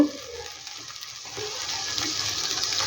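Poppy seed and cashew paste fries in a pan with spices for a vegetarian pumpkin-seed dish, giving a continuous close hiss and sizzle that grows a little louder partway through, with no talk.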